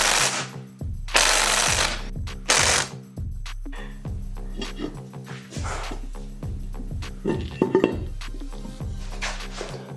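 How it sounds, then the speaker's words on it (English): An impact power tool buzzes and rattles in short bursts while removing bolts from a buggy's transmission bellhousing, with several on-off pulses and mechanical clanks between them, close and fairly loud. "So now what I'm going to do is pull all of these bolts"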